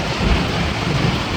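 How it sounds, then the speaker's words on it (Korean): A thunderstorm with thunder and hail in Australia, heard as a steady, loud, dense roar of falling hail and rain with low rumbling underneath, continuous throughout with no talking. "천둥 번개 치고 지금 난리 났습니다."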